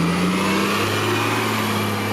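Orion VII Toronto city bus engine accelerating, a steady loud mid-pitched diesel drone with a low tonal hum that holds throughout, close by with no talk.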